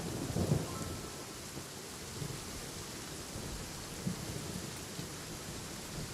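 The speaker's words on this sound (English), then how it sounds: "It's raining again." Steady rain falls with low rumbles of thunder in Genshin Impact, a constant hiss of rainfall on surfaces with a few deep rolls breaking through, no voices.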